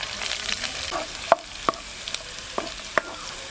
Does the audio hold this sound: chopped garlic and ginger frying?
yes